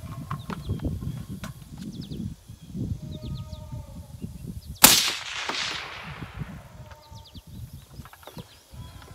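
A single sharp rifle shot fired across a pond at a 200-yard target, a loud crack midway with a decaying echo, set against outdoor background noise and faint birdsong.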